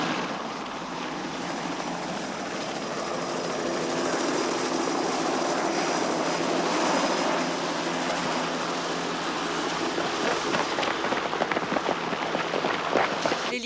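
A helicopter circles overhead above a rooftop with police on the ground, its engine and rotor making a loud, steady drone that fills the whole stretch.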